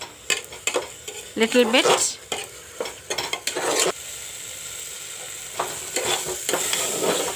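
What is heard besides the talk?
frying arhar daal with onions and tomatoes in a pan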